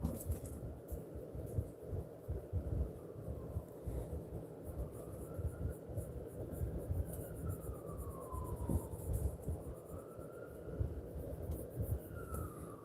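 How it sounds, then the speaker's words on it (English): Faint sirens wail in the distance, rising and falling in slow sweeps over a low background hum in a quiet indoor setting, with no talk. "those sirens sound close."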